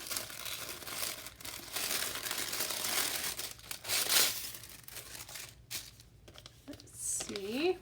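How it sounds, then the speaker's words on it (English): Crinkly wrapping paper being unwrapped from a mailed package, a steady close rustle and crackle of paper handling with a few louder tearing bursts. "So it's wrapped in this really lovely crinkly paper."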